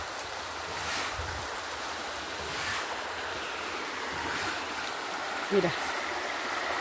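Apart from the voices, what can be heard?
floodwater from overflowing rivers around a house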